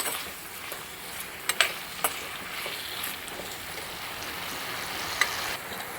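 Ivy gourd curry is stirred in a pan, a continuous frying hiss broken by occasional light scrapes and taps of the spoon, with no voice.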